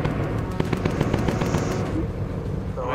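Rapid bursts of machine-gun fire from a bomber's gun turrets in the video game Bomber Crew, loud and continuous with rattling rhythmic shots over engine drone, fading near the end.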